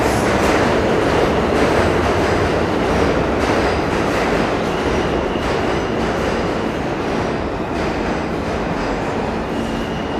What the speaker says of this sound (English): Hey, my train is here.